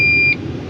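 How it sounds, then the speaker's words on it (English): An excavator's warning alarm for an engine fault code sounds as a single steady high beep lasting about a third of a second, then cuts off, leaving the engine idling in the background. "this thing is beeping at me like there's something"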